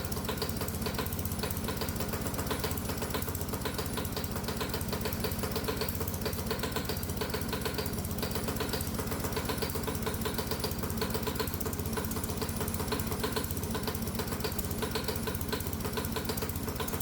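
A hot bulb semi-diesel lawnmower engine running on alcohol fuel chugs and knocks in a fast, steady mechanical rhythm, loud and close, and it keeps going without change throughout.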